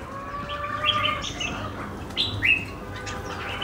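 A caged songbird sings in short bright phrases and chirps over a low, steady background hum, with no talking.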